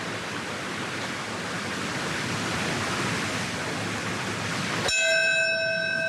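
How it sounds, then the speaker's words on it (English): A single church-style bell strikes once during a 9/11 memorial moment of silence, ringing out clearly over a steady wash of fountain-like water and crowd ambience, its tone sustaining after the strike. "And there's the first bell toll."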